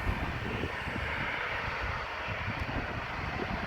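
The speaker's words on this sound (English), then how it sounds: "Vueling A320 going to Alicante." A Vueling Airbus A320 takes off from Amsterdam airport's Aalsmeerbaan runway, its engines a steady, moderately distant broadband roar that holds without a break.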